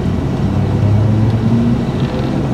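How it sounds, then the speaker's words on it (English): A V6 Ford Mustang engine hums steadily nearby with a low droning tone, continuous road noise and no talking. "There's a V6 Mustang up there"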